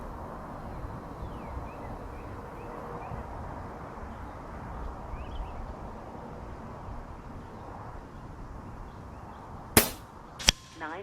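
An Impact MKII air rifle firing a 43.5 grain NSA slug outdoors, a sharp report near the end followed by a second crack moments later, over steady wind noise.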